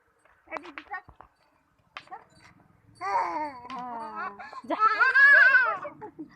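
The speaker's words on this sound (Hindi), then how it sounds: "आवाज बकरी" Several goats bleat close by, wavering cries that grow louder toward the end, with brief bits of human voice and clatter before them.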